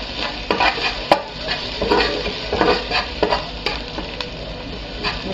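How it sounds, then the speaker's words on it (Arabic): Garlic and onion frying in a pan, a continuous close sizzle broken by repeated sharp scrapes and taps of a utensil being stirred, with no one speaking. "ثوم وبصل على النار"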